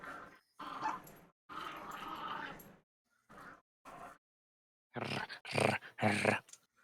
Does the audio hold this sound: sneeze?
no